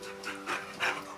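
Dogs pant and huff nearby in quick rhythmic breaths, with a couple of louder breathy bursts across the short moment.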